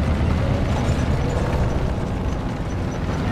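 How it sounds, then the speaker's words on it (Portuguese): A tank shell ricocheting off Panzer armor in Call of Duty WWII, heard as a loud, sustained rumbling blast with dense low roar and no pause. "O tiro ricocheteou!"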